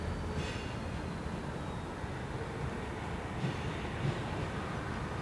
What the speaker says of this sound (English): Here comes a local train out of Collier.